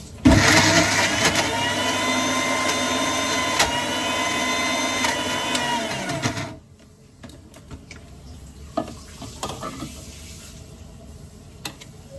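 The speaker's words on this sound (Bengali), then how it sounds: "মাংসগুলো চুলায় রান্না করার পরে এখন ব্লেন্ড করে পেঁয়াজ মরিচ দিয়ে" Cooked meat for kebabs is whirred in an electric blender, a loud steady grinding drone for about six seconds that then cuts off, leaving quiet kitchen clatter and knocks.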